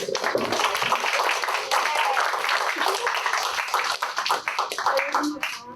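Audience applause at a career and internship expo speaker series, dense steady clapping from a crowd filling the room for several seconds, with scattered sharper claps and a few voices.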